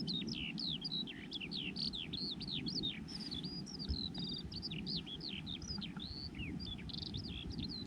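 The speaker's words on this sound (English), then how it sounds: "It's the first bird I've heard." A wild bird sings on open hills near a wild campsite in the Moffat Hills, a steady run of bright chirps and warbling phrases over a low wind rumble, fairly close and lasting throughout.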